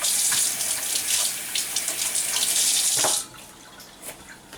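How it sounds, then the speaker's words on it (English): Hands being rinsed under a running kitchen tap during raw pork preparation, a steady close rush of water that cuts off abruptly near the end, followed by quiet handling noises. "Give my hands a little rinse"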